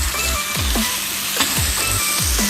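Food fries in a pan for a potato and green onion dish, a continuous close sizzle with repeated sliding, falling tones layered over it.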